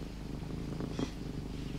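A house cat purrs softly and steadily, a low continuous rumble heard close and alone without any talk.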